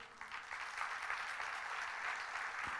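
An audience at a spiritual talk on emotional fitness claps together in a dense, even burst of applause, moderately distant, with no talk over it.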